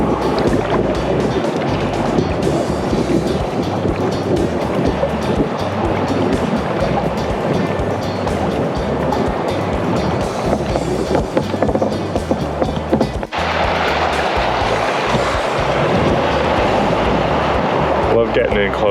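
Sea kayak play boating in ocean surf close to rocks on the Maine coast: continuous rushing wash of breaking waves and churning water, with heavy wind buffeting the microphone.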